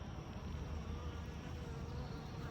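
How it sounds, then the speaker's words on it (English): A small cluster of swarming bees buzzes in the open after a swarm, a faint, continuous, droning hum with no talk over it. "All I see is this little small cluster"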